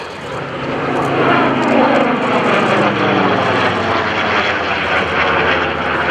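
A Curtiss Helldiver World War II warplane passes at an airshow, its loud piston engine roar swelling and holding steady as it flies by, with no talk over it.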